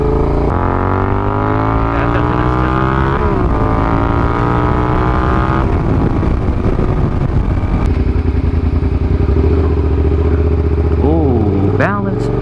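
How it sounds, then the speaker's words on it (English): A Suzuki SV650S motorcycle's exhaust drones loudly while riding, rising in pitch through several accelerations and gear changes amid heavy wind rumble, with a rider talking over it. "You hear that exhaust?"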